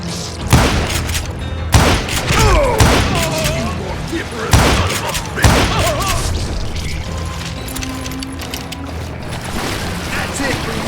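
Gunfire in the Western video game Call of Juarez: Gunslinger, with loud sharp shots and booms bursting at irregular intervals over a busy background, and voices heard among them.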